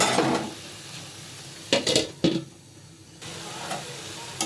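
Drumsticks stir-fried with mustard paste in a pan: a soft background sizzle broken by a few sharp scrapes and clatters of a spatula against the pan, then a quieter steady fry.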